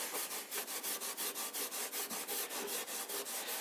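Rubbing 00 steel wool back and forth over antique timber to lift old shellac, a steady rhythmic scratchy swish of about four strokes per second, close up and continuous, with no voices.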